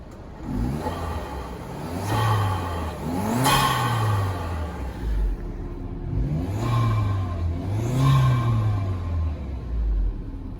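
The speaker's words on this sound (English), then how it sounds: "So this is what it sounds like here. It sounds really nice, actually." Acura RDX fitted with a K&N Typhoon cold air intake, engine revving in repeated rising sweeps with intake roar, each rev climbing then falling back, heard close and loud with no talking.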